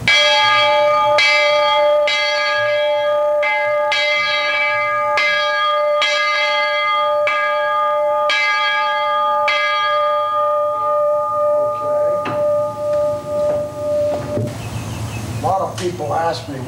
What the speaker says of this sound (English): I'll give it a ring.